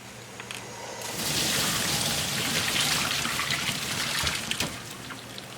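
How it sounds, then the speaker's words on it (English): Boiled potatoes being strained in a kitchen, water poured out in a steady rushing splash that rises after a moment and holds, then tapers off near the end. "our potatoes are ready now, so we're going to go ahead and strain them"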